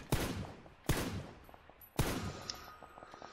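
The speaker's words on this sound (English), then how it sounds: "There was gunfire to the left." Three sharp bursts of gunfire from a multiplayer shooter crack out about a second apart, each fading into a short echoing tail, at moderate volume with no talk over them.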